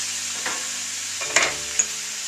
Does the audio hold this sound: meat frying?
yes